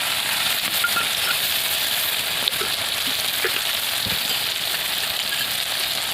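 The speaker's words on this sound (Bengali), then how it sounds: "এর মধ্যে আমি এখন দেবো সেই পেস্ট করে রাখা মশলাটা।" Spice paste added to chicken masala frying with tomato in a pan gives a constant close sizzle, steady and hissing throughout, with a few small pops and clinks.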